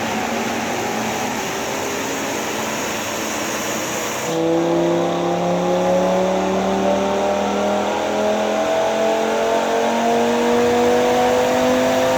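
An Audi RS3 engine on a dyno base run climbs steadily in pitch and loudness, a loud sustained revving pull that builds after a few seconds of lower drone, with no talking.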